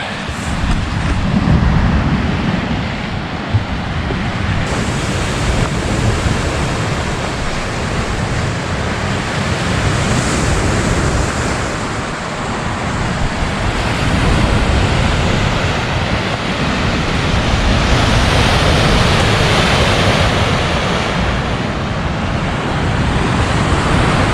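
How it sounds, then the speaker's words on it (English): Waves wash onto a winter beach at Tettegouche State Park in a continuous broadband roar that swells and eases slightly, loud and close. No other sounds stand out. "Now I'm gonna head down to the beach"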